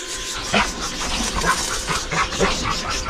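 A dog barks in a few short, sharp bursts at close range in a backyard, with panting and other noises between the barks.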